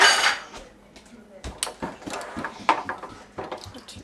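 A pot and utensils from making jelly are loaded into a dishwasher, giving a run of close, sharp clanks, knocks and clatters of metal and dishes at an irregular pace.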